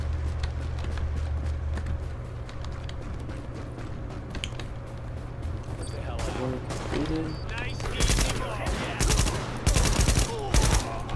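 Tom Clancy's The Division burst fire: after a stretch of low rumbling ambience and mechanical clatter, loud clustered bursts of gunshots break out in the last few seconds, with talk nearby.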